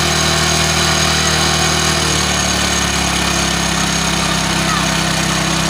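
A Hero motorcycle engine idles steadily and loudly up close during a mileage and air-fuel mixture adjustment, its even drone shifting slightly lower partway through as the idle speed is brought down.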